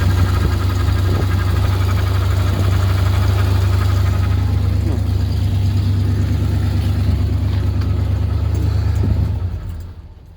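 A 1976 Chevrolet C20 square body truck idles smoothly on fresh spark plugs in the cold, a steady low engine rumble holding close and loud for about nine seconds before cutting off.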